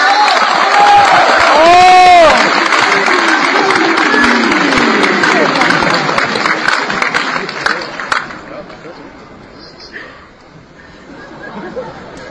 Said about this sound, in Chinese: 下面掌声请出大家